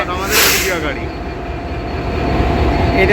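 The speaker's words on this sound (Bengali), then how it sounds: "ইতিমধ্যে একটি লোকোমোটিভ দেখতে পাচ্ছেন এখানে" Rumbling rail noise of a locomotive at Parbatipur junction railway station, steady low drone with a brief hiss early on, a voice talking over it.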